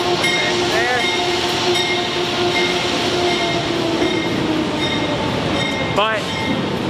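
A New Jersey Transit train rumbles past in a continuous steady roar with rail clatter, two brief high wheel squeals breaking through, while people talk over it.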